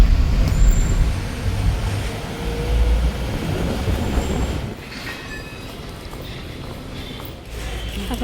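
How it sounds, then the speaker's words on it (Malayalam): A train rumbles in heavily with a steady roar, then the noise eases and wheels screech faintly before a low rumble returns. "ദേ അവിടുന്ന് നമ്മുടെ ട്രെയിൻ വരുന്നുണ്ട്"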